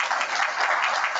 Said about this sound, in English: A big round of applause, appreciation.